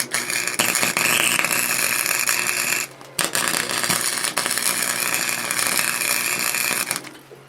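A small welder set to its minimum setting runs on a small Tecumseh HSSK50 engine part, giving a loud, steady crackling buzz that cuts out briefly near the middle and then resumes, with no talk.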